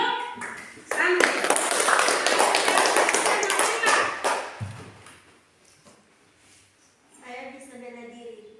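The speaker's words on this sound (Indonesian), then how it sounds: "Tepuk tangan untuk teman kami." A class of students applauds a classmate, with dense, loud clapping that lasts about four seconds and then fades. A voice speaks before and after the applause.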